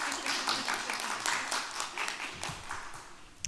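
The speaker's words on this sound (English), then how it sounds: "Can we have a little round of applause for them?" An audience at a mayor's news conference gives a short round of applause, a continuous wash of clapping at moderate volume that runs for several seconds before tapering off near the end.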